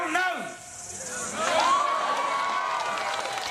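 A protest crowd at Waitangi cheering and shouting, a loud wash of voices with a rising whoop above the roar, mixed with someone speaking.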